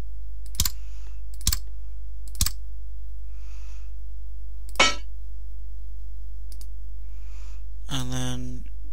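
Computer mouse clicks while playing the building game Bridge Constructor: three sharp, isolated clicks spaced about a second apart, then another click later, in a quiet room with brief soft noises between.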